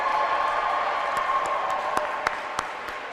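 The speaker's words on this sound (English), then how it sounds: "Let's give them a round of applause." Crowd applause for the DJ at an outdoor Pride celebration, a steady wash of clapping from many people with a few sharp nearer claps standing out, fairly loud and sustained for the whole stretch.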